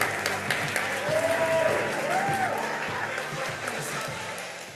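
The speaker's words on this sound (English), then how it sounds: "let's give ourselves a round of applause" An audience at a school green-themed event applauds in a steady, moderate wash of clapping that swells slightly and then eases off, with some faint voices mixed in.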